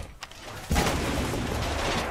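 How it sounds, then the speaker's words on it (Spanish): An explosion in the video game Rainbow Six Siege bursts in suddenly and loud after a near-quiet opening, then rolls on as a dense, sustained roar to the end. "Estoy escuchando una explosión"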